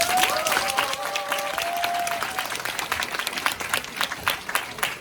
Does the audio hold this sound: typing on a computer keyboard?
no